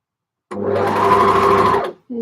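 A sewing machine stitching a knit top sleeve runs in one steady, loud, close burst of about a second and a half, then stops before a voice begins.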